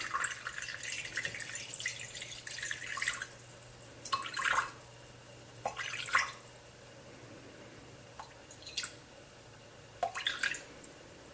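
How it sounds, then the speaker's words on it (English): Water poured from a container into a kitchen-scale bowl already holding flour and salt for bread dough, heard as intermittent splashing and trickling bursts with quiet pauses between them and no voices. "you would pour the water into the same bowl until you got to 65"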